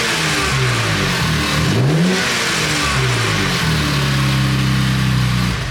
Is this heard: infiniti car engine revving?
yes